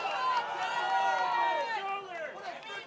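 Spectators at a girls regional final soccer match between Oregon and Mukwonago erupt in a loud, mixed outcry of voices over a disputed call, a dense crowd roar that rises and then tapers off.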